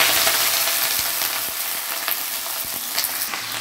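Vegetable stalks drop into hot oil already holding a fragrant tempering of spices and fry in a loud, bright, steady sizzle, with a few soft knocks of stirring beneath, close and continuous.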